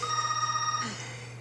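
A telephone rings indoors with a steady electronic trill, fairly faint over a low hum, then cuts off after under a second.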